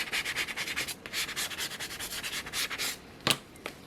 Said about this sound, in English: We're going to use our scraper tool just to make sure that the vinyl has adhered to the planner.